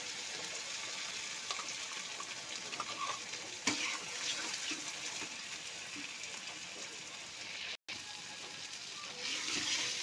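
Mustard paste frying with taro leaves and lentils in a pan, a low steady sizzle with scraping stirs, one sharp clack partway through and a brief gap of silence.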